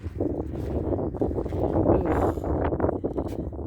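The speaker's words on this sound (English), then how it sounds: "the wind is terrible" Strong wind gusts buffet the microphone outdoors under thick rain clouds, a continuous loud roaring rumble that swells and eases across the whole stretch.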